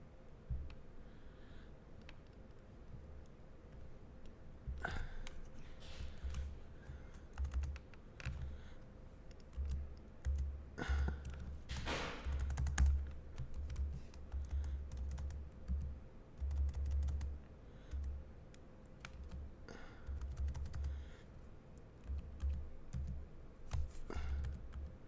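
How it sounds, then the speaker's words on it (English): Fingers type on a computer keyboard in irregular bursts of quick, close key clicks with a few louder strikes, continuing over a low room hum for about twenty-five seconds without speech. "I better type."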